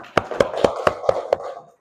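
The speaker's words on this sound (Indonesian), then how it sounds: "Sudah, tepuk tangan." Six slow, evenly spaced claps ring out in a classroom, close and distinct, then fade to quiet.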